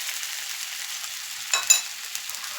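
Thick curd poured into a hot pan of curry on a gas stove, a steady soft sizzle with a brief louder hiss and splash partway through, close and without talk.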